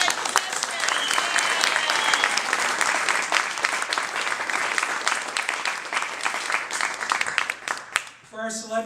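An audience claps through an awards showcase in a sustained, even round of applause that fills the room, then fades near the end as a voice comes in over it.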